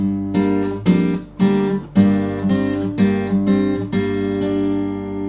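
Fingerstyle acoustic guitar plays a riff with an added bass line, about eight to ten crisp plucked chords and bass notes in a steady groove, close and loud, with no voices.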